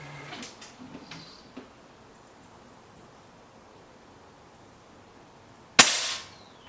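A single sharp crack from a BSA Lightning SE air rifle near the end, loud against an otherwise quiet outdoor background with a few faint ticks and rustles beforehand.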